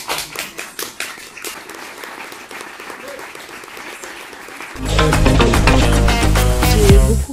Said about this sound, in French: Ainsi, oui, vous pouvez l'applaudir.